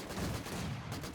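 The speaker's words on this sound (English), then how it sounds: "2 mortars, though, starting to unleash, my guess is right on top of the machine gun" Mortar and machine gun fire in a war video game make a dense, continuous rattle of rapid shots with rumbling low blasts, fairly faint.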